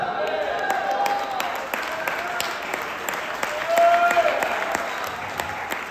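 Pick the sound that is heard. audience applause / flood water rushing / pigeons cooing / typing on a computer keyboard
audience applause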